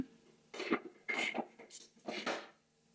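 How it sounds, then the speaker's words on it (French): A yogurt maker's lid is set down and clipped shut, giving several close, short plastic clicks and knocks in quick succession against a quiet background. "je referme le couvercle"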